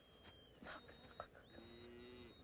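A cow moos in a barnyard, a drawn-out low call in the middle of the clip, fairly close, with faint outdoor background and a higher whistling tone running through.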